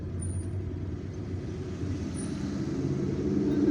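Slow city street traffic in Algiers, a low continuous rumble of car and bus engines close by, building gradually without any talk.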